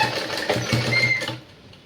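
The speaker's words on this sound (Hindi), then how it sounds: "इस तरह से हम तिरछी सिलाई कर लेंगे" A sewing machine runs in a short, fast burst stitching lace onto a small doll dress, then stops abruptly and falls quiet.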